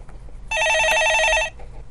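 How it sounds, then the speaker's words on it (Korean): A telephone bell rings once, loud and close, as a steady electronic trill lasting about a second, set against a quiet room during a stock-market phone-in show. "예, 전화 받아보겠습니다."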